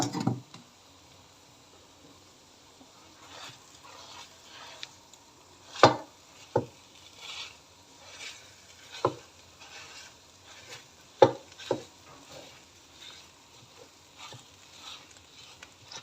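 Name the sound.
bread pieces stir-fried and broken up with egg mixture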